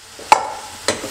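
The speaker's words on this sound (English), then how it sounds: "now I'm gonna pour in my mushrooms" Finely chopped button mushrooms tipped into a hot pan, two quick soft sizzling bursts of food landing, close and brief.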